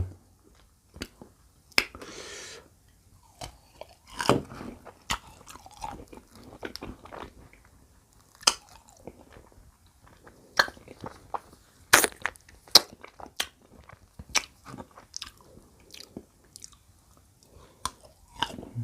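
Young tamarind bitten and chewed up close, with sharp crunchy bites and wet chewing repeating irregularly over a quiet background.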